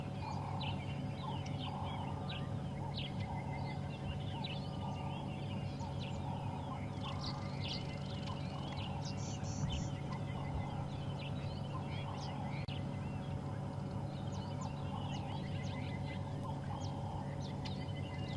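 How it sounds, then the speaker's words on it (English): Many small birds, including turtle doves and bush shrikes, call and chirp in the bush at dawn through steady background ambience, some distant and some nearer, with scattered short whistles and trills throughout. "just listen to the birds"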